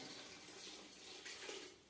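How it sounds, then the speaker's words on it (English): Cold water running into a big soup pan in a home kitchen, a quiet, steady splashing pour that swells slightly near the end, with no voices. "I'm going to put some water in, cold water, cool it all down again."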